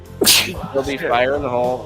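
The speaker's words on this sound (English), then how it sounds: "Sneezing over everything." A single sharp sneeze bursts out close and loud, followed by a person speaking briefly in an indoor setting.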